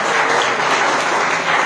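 A church audience gives a steady round of applause, dense and even throughout the brief burst, with no talking.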